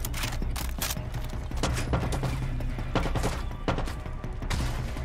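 Gunfire from an enemy outpost in Far Cry 6 rattles in uneven bursts of sharp, loud shots, some in quick volleys and others as single cracks, over a constant low background rumble.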